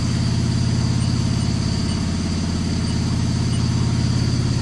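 The chip auger on a 2008 Haas VF-3SS CNC mill with 4th and 5th axis runs with a steady low, pulsing mechanical drone, constant and close, alone without talk.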